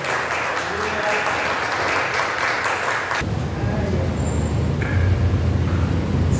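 Church congregation applauding during a Sunday morning service, a steady, moderately loud wash of clapping that shifts partway through to a rumbling, lower-pitched background.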